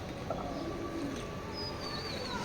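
Soft, low cooing from a female racing pigeon held close, a steady faint murmur under a constant background hum, with a thin higher tone drifting in near the end.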